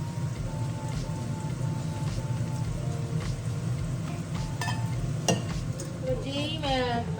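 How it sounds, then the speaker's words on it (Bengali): Onions fry in a pan for biryani beresta with a steady crackling sizzle, close and continuous, with occasional clinks of utensils and a voice heard briefly. "পেঁয়াজটা একটু বেশি ভাজছি, যেহেতু বেরেস্তার জন্য"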